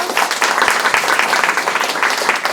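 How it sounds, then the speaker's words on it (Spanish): Loud audience applause at an arts-education meeting in Argentina, dense and sustained clapping from a crowd with no gaps. "Un nuevo aplauso para todos."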